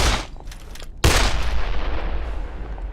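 Gunfire rings out in the zombie video game Dead Island: a sharp burst early, then a loud blast around one second that rolls into sustained rattling fire and a long fading echo.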